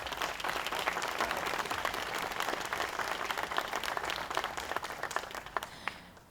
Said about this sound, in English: Please join me in giving them a round of applause for their heroisms